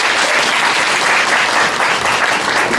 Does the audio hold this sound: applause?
yes